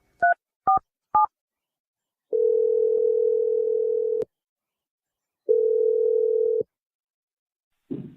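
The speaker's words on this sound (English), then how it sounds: "we're going to dial Brett's number right now for you" Three short touch-tone keypad beeps dial a number on a radio show phone line, followed by two long, steady ringing tones separated by silence, then a faint sound at the end.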